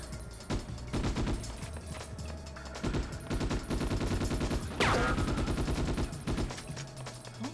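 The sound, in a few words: gunfire in Ghost in the Shell PS2 video game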